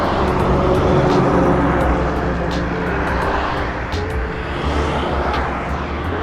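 A motorbike engine drones steadily during a highway ride with wind rush, loud and continuous, with faint voice-like sounds in the background.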